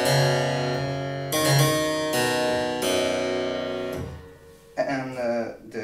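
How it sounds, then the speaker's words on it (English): A restored harpsichord with brass bass strings plays low notes, each a bright plucked attack followed by a resonant ringing decay, several struck in slow succession, close and clear, ending with a quicker run of plucks. "In the bass we have these brass strings."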